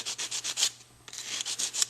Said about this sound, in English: I'm going to use the sanding block, and I'm going to sand